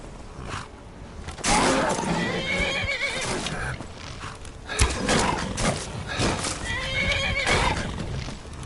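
Horse in the Skyrim video game neighing loudly, with whinnies and hoof clip-clops through a busy game soundscape, the calls repeating several times over steady background action.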